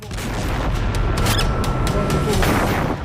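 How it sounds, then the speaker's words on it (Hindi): A heavy explosion in the Gaza war booms and rolls into a sustained, rumbling roar of debris and noise lasting a few seconds. "चंद सेकंड के बाद होता है बड़ा धमाका"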